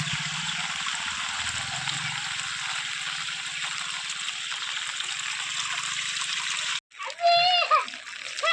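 Rainwater from the whole village pours away after a heavy downpour, a steady broadband rush running for several seconds before a brief break, then resuming with a voice and splashing nearby.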